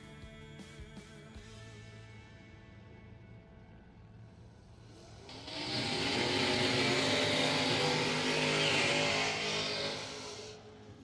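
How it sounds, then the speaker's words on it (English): Drag racing cars doing long smoky burnouts at a bracket racing event. Engine noise builds into a loud, sustained roar that holds for several seconds and then drops away, heard from a middle distance. "Nice long smoky burnouts for both."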